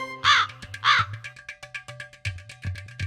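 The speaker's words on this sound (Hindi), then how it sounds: "आवाज लगा रहा हूँ अम्मा और शारदा को और जवाब कौवा दे रहे हैं" Several crows caw repeatedly, loud and close, with harsh overlapping calls in an irregular series that answers someone's calling.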